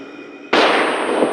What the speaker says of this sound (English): On my mark, flashbang.